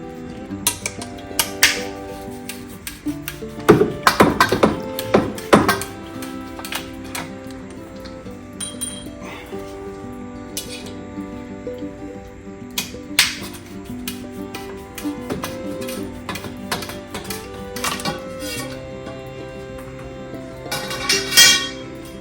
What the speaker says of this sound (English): I'm going to cut some pipe.